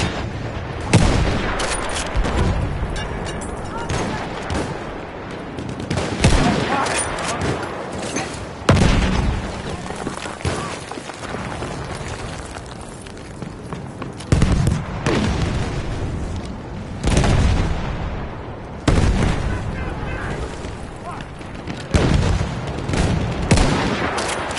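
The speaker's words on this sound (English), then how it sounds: "Enemy artillery!" Artillery barrage in Battlefield 1: repeated heavy booming blasts and crashing impacts at irregular intervals, some close and loud, others more distant, amid ongoing battlefield gunfire with no talk.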